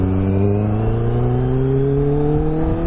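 A Kawasaki Ninja H2 motorcycle engine revs up steadily, its droning pitch climbing smoothly and loudly throughout, close by with no voices.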